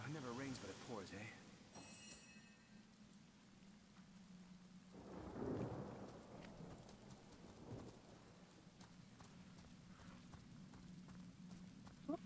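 Rain and thunder from a stormy spell in the video game Divinity: Original Sin: a steady hiss of rainfall with a low rumble swelling midway, accompanied by faint game effects.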